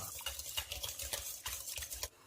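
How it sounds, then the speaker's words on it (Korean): A whisk stirs a spoonful of instant coffee into half a cup of hot water in a mixing bowl, making a fairly steady scraping and clinking rhythm of rapid strokes with short pauses between them. No one speaks. "휘스크로 살짝 저어서 커피를 녹여줍니다."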